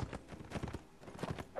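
Horse hooves clip-clopping in the video game Mount & Blade, a quick uneven run of hoof strikes at low volume, heard alone without talk.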